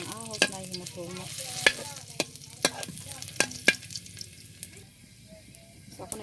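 Garlic frying in hot oil in a home kitchen pan, a steady sizzle broken by sharp clacks of a spatula stirring, with no voices.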